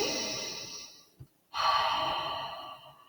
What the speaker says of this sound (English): take a deep belly breath